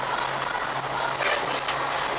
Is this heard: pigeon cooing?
no